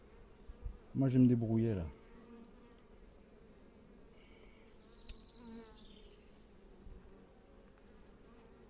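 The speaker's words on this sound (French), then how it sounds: "sans tuer des abeilles" Honeybees buzz softly around queen-rearing work, a faint, steady hum close by, while someone speaks briefly over it near the start.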